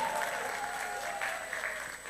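An audience at a ceremony honouring women as unsung heroes gives a round of applause for an honoree; moderately quiet, even clapping holds steady for about two seconds under a faint steady hum.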